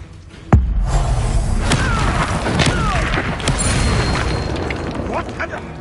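A fire spell blast from the video game Hogwarts Legacy bursts with a sudden heavy boom, then crackles and rumbles on as a loud sustained roar with scattered impacts.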